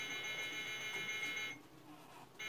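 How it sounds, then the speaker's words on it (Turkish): An alarm rings in the Minecraft video game as part of an electrical system build, a faint, sustained electronic tone with a steady pulsing beat that drops out partway through and briefly returns near the end. "O alarmın kendini susmasının gerekiyor."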